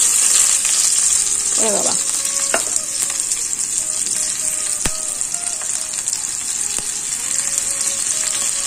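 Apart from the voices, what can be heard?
chopped onions sizzling as they fry in oil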